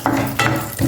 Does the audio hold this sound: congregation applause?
no